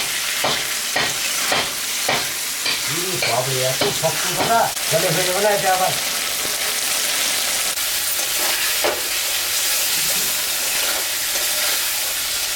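Tomato, green chillies and spices fry hard in oil for a rohu fish curry. A spatula scrapes and stirs in repeated rhythmic strokes over a loud, constant sizzle, with a brief squeaky tone partway through.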